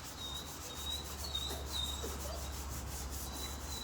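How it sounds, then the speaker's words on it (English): A brush spreads hemp finishing oil across a dry timber drawer, a soft, steady close-up rubbing and swishing under a faint background hum. "Use your brush just to sort of spread it around a bit."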